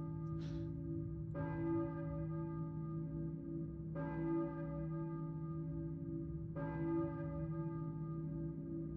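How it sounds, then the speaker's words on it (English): A church bell tolls three times at slow, even intervals in the Silent Hill video game, each strike ringing out with a long resonant decay over a steady low drone. "I hear a church bell, maybe."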